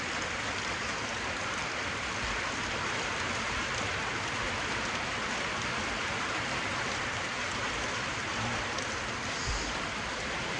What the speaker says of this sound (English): Not a deluge, but it's a pretty good downpour.